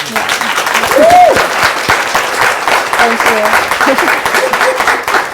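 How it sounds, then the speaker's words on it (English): Audience applause at a fireside chat, steady and fairly close, with a voice speaking briefly over the clapping. "Can we just give it a round?"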